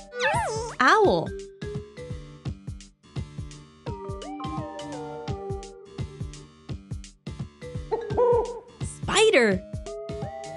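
Cartoon owl hoots from a children's animal stacking game, a few bright bursts among synthesized game jingles and other animal calls, with a voice naming the creatures.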